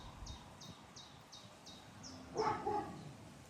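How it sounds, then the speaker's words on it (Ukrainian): A dog outdoors gives a single short bark at a moderate distance, after a run of high, evenly spaced chirps. "Собачка гавкає, так?"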